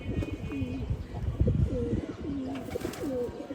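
Bronze chila pigeons in a loft give repeated rolling coos, several distinct calls spaced across a few seconds, near and fairly clear over faint background rustle.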